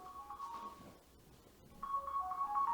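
A phone ringtone plays a repeating electronic melody in two bursts separated by a short gap, moderately loud and close, with no talk over it.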